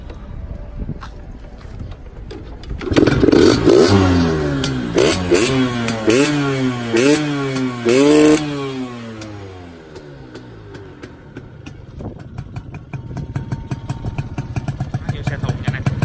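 A Yamaha Yaz 125 motorcycle, fitted with an aftermarket ignition unit and fuel tank, revs hard several times in a row, its pitch climbing and falling in quick bursts, then settles to a near, steady idle.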